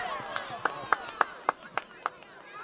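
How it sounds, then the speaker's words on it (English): Spectators at a rugby semi-final at Barry Park, Gisborne, clap in a steady rhythm, about eight sharp, evenly spaced claps ringing out over a soft crowd murmur. "Crowd was excited. Crowd got up."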